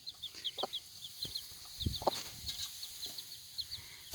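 A mother hen clucks softly near her chicks, with short repeated low clucks mixed with the chicks' high, faint peeping.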